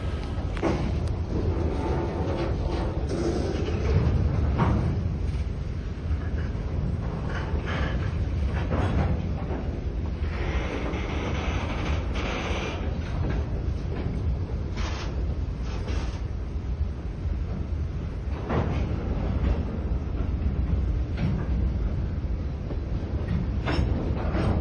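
Freight train CA53 rolls slowly through a rail yard, a continuous low rumble with rattling wagons and metallic squeals, steady and fairly close with wind buffeting the microphone.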